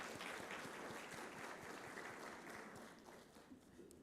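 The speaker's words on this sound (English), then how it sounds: "let us give him another round of applause." A conference audience gives a speaker a round of applause: a steady wash of many hands clapping at a distance, faint in level, thinning slightly toward the end.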